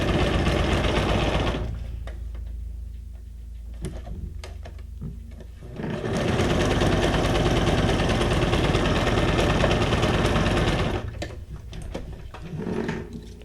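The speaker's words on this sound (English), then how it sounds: "Listen to that sewing machine hum." A sewing machine hums loudly and steadily in two long runs, with a quieter pause between them and a brief start again near the end.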